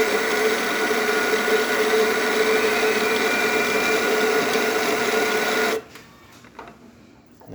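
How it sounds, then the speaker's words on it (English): A Baratza Vario coffee grinder grinding coffee beans, a loud, steady, close motor whir with a tonal hum that runs unbroken for several seconds, then cuts off abruptly into near silence. "But we're going to start grinding. This is for 10 seconds."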